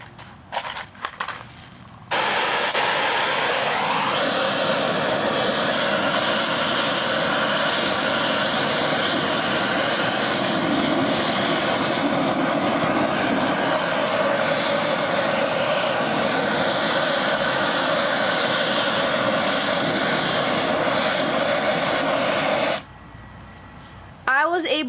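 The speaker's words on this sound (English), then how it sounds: "this torch that I'm using is only using propane" Loud propane torch roaring steadily for about twenty seconds, a broad continuous rushing blast that starts abruptly and cuts off near the end, used to heat a soup can forge lined with dirt.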